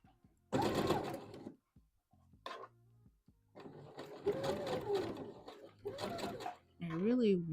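Home sewing machine stitching a Vogue V2000 wrap dress, running in several bursts at varying speed with short pauses between runs; a voice speaks in between.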